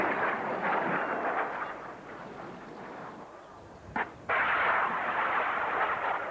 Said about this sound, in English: The smoke trail marked the launch of a ground-to-air missile.